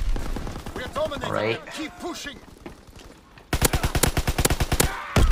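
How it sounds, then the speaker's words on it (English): Call of Duty: World War II gunfire, a rapid burst of loud automatic shots fired close after a stretch of speech and game sounds. "First kill on World War II. Shot him in the foot a bunch of times."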